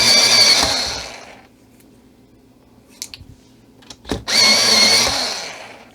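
A motorized pencil sharpener grinds Prismacolor colored pencils in two loud, close bursts of about a second and a half each, separated by quiet handling clicks.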